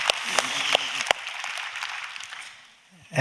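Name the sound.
church congregation applause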